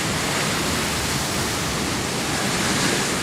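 Big ocean surf breaking at The Wedge, an 18-foot wave, as a steady dense roar of churning whitewater, loud and continuous with no voices.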